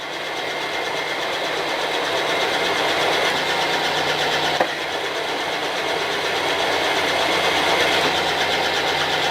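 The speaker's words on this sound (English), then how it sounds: "we're going to run the countersink down in here. We're going to V this out, prep it for welding." Countersink cutting a V groove into metal to prep it for welding, a steady loud whirring grind that holds even throughout with one brief click midway and no talk.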